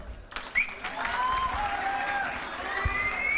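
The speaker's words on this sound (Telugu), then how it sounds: "మీరు చప్పట్లు మాత్రం రివర్స్లో కొట్టకుండా ముందుకే కొట్టారు" Audience applause at an alumni meet breaks out after a short quiet start and continues as a dense, steady clapping from a crowd, moderately loud and sustained to the end.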